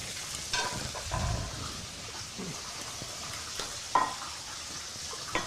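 Fish sizzles quietly in frying oil under a low hiss, with a few soft thumps and utensil clinks close by.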